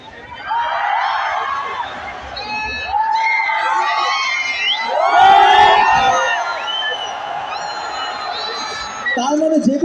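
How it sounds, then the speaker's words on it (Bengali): A crowd at a public event in Debidwar, Comilla shouts and cheers loudly on cue, with children's voices and whoops rising and falling in waves over about ten seconds. "এবার তোমরা কত জোরে চিল্লাইতে পারো দেখি তো"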